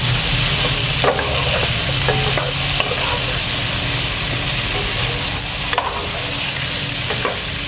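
Adobo with oyster sauce being stirred in a pan over medium heat, a steady close sizzle of frying with occasional scraping clicks of the spoon against the pan.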